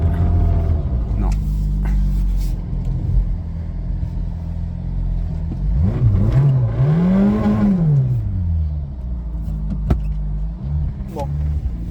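A Citroën Saxo with no snow tyres on the front tries to climb a snowy hill, its engine rumbling and revving up and down near the listener while a person talks over it.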